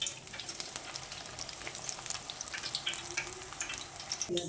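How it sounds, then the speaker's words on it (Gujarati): Thin gram flour sev noodles fry in hot oil with a continuous close sizzle and fizz of crackling bubbles, steady throughout, with a faint clink near the end. "સેવ આપણી ફ્રાય થઈ ગઈ છે"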